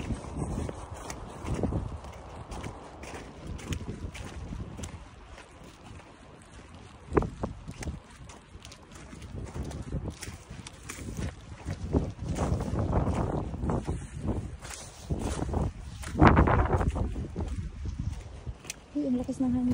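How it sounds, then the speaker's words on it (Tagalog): Strong gusting wind blows over a slippery snowy walk in Finland, rumbling and buffeting the microphone in continuous waves that surge louder toward the end, with crunching footsteps and occasional voices mixed in. "Uy, ang lakas ng hangin."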